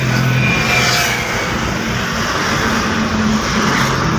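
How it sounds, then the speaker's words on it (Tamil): A vehicle drives along a road, giving a loud, continuous engine and road rumble with low droning tones and no voices. "இந்த இடத்துல வண்டி ஓட்டிகிட்ருக்கோம்"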